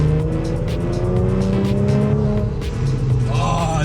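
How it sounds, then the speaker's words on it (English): Supercharged engine of a rebuilt, formerly blown Audi S4 revving steadily, with rising supercharger whine layered over a loud, continuous exhaust drone, close and without talk. "I love how the turbo and the 810 sounds in the SQ5, but this supercharger whine,"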